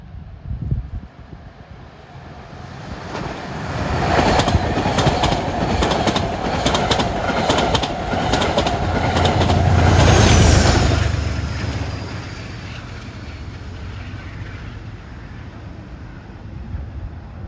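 A Metro-North local train passes at Riverdale, its broadband rumble and clickety-clack swelling to a loud peak midway, then easing off as it recedes, with birds faintly audible.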